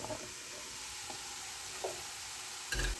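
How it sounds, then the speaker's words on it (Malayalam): Chopped potatoes tipped into sautéed onions in a pan for a Kerala-style potato fry, giving a steady soft sizzle with a few stirring scrapes and a louder clatter near the end. "ഇനി നമുക്കിതിലേക്ക് ഉരുളക്കിഴങ്ങ് ചെറുതായിട്ട് അരിഞ്ഞു വെച്ചിരിക്കുന്നത് നമുക്ക് ഇട്ട് കൊടുക്കാം"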